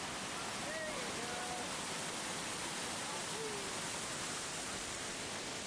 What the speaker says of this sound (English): Minneopa Falls. This is the upper falls.